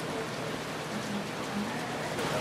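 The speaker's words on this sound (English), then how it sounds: "Now it's raining. It's pouring." A steady, dense pouring rain hisses without letup, loud and close throughout with no voices.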